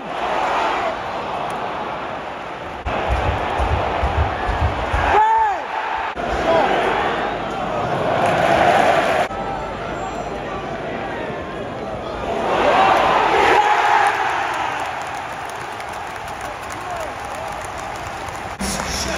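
Football crowd at St Mary's for Southampton vs Millwall, a broad roar of cheering and clapping that swells and fades in waves beneath continuous commentary.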